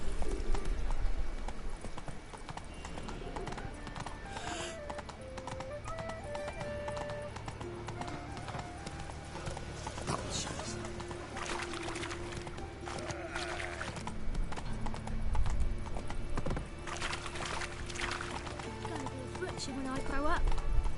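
A horse's hooves clip-clopping in steady rhythm across a long stretch in The Witcher 3, moderately close, mixed with game sounds and speech.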